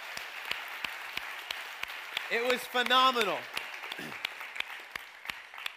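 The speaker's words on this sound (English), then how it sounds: "That's worth clapping for right there." Conference audience at a packed three-night event applauds, a dense crackle of many hands that runs steadily under someone speaking over it at close range.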